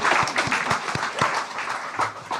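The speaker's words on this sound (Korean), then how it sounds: "오늘 수간 성가대 우리 격려의 박수 한번 하겠습니다" A church congregation applauds the choir after a Sunday worship hymn, with a short burst of moderately close, fairly loud clapping that is steady at first and thins out at the end.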